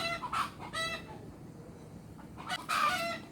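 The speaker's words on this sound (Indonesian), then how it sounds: "ini itu merupakan salah satu jenis satwa yang dilindungi, merupakan burung jenis julang irian" A Papuan hornbill (julang irian), a protected bird, calls near a house in the early morning. Two hoarse, rasping calls come close together, then a pause and a longer, louder burst, all over steady low background noise.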